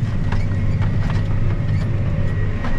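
A vehicle downshifting and pulling hard through a wet spot in a field: a loud, steady, low engine drone holds throughout, close and unbroken.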